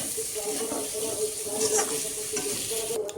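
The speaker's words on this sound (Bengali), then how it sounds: "একটু ভালো করে কষে নেব আলুগুলোর সাথে" Potatoes being fried and stirred in a pan while cooking duck curry, a steady close sizzle with scraping stir strokes throughout and a faint voice in the background.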